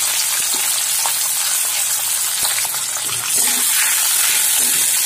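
Chopped onion, tomato, ginger, garlic and whole chilies sizzle steadily in hot oil in a pan while preparing matar paneer, a dense continuous crackle with occasional sharper pops, loud and close with no talking.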